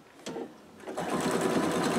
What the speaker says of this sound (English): I'm just gonna pin and stitch.